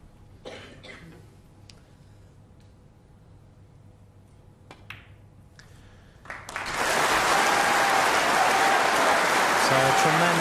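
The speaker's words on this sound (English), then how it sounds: "So tremendous applause there" Snooker crowd at the Crucible in the 1992 Hendry v White final, first a hushed hall with scattered coughs and clicks, then loud, sustained applause bursting in and filling the rest.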